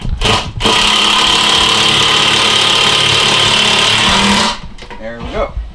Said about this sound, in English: hopefully my impact driver will have enough strength to just put that right down in there